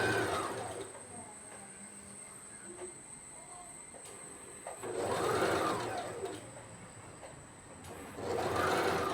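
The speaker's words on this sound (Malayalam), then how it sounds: "നല്ല വശവും നല്ല വശവും ജോയിൻ്റ് ചെയ്ത് സെൻറ്ററിൽ വെച്ചിട്ട് നമുക്ക് തച്ചു കൊടുക്കാം" A sewing machine stitches a nightie in bursts, its motor whirring up loudly near the start, in the middle and at the end, with quieter handling pauses between the runs.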